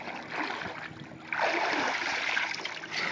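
Tungabhadra river water flows and laps in the early morning, a steady rushing wash with splashy swells that grow louder midway, with no voices.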